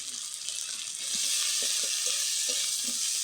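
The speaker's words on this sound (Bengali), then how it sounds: "ভাজি হয়ে গেছে। এখন দিয়ে দিলাম এই যে রসুন বাটা।" Garlic paste hits a hot pan and sizzles loudly and steadily, the frying growing more intense after a moment as ingredients shift in the oil.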